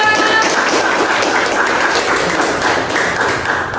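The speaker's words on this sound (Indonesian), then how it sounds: "Tepuk tangan dulu untuk Bapak Ketua." Classroom students clapping for the class chairman after a group presentation, a loud, dense patter of applause continuing steadily without pause.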